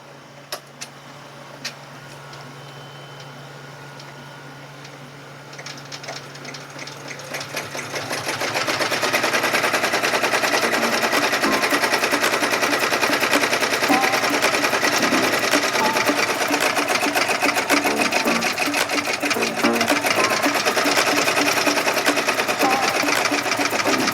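An embroidery machine stitches out a design on a belt hoop. After a quiet start it ramps up to a loud, steady, rapid needle clatter that continues to the end.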